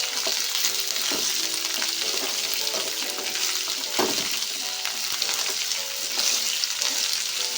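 Ivy gourd masala curry being stirred in a pan, a steady close sizzle with scraping spoon strokes and occasional louder clatters throughout, no voices.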